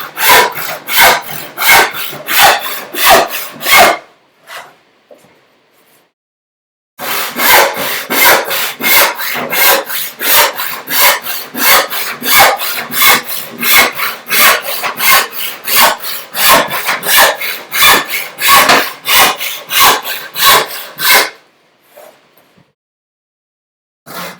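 Hand saw cutting a thin wooden board during a bookcase build, brisk rhythmic rasping strokes, loud and close, a short pause, then a long even run of back-and-forth strokes ending in silence.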